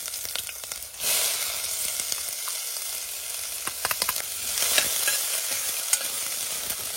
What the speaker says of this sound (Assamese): এতিয়া ভালকে একদম ভাজি লোৱা হ'ব যাতে পিয়াজখিনি একদম ৰঙা ৰঙা হৈ যায়